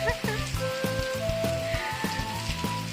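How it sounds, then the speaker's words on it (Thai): Rain falling on a rural Thai home, a steady close patter with scattered sharper drops under background music. "ฝนตก วันนี้ฝนตกหลายรอบแล้วค่ะ"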